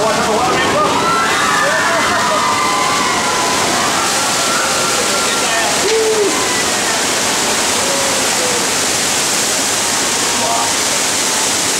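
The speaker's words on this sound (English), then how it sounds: "Check out the water. Watch out the water." Heavy water splashing and sloshing on a theme park earthquake ride at Universal, a loud continuous rush filling the whole stretch while a crowd murmurs underneath.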